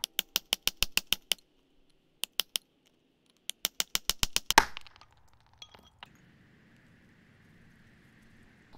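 A geode is struck with a series of sharp, ringing taps in quick bursts, ending in one louder crack as it breaks open, followed by faint rustling.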